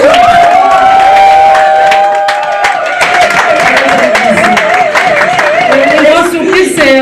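Crowd at a surprise birthday party breaks into loud applause and cheering that fills the whole stretch, with clapping, whoops and shouts layered over music, and a voice rising above the din near the end.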